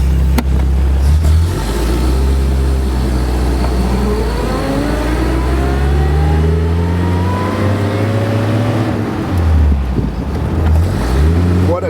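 A 1954 Sunbeam Talbot Alpine Special roadster drives along with a loud, close engine that rises and falls in pitch through repeated accelerations and gear changes, with strong wind rush around the open car.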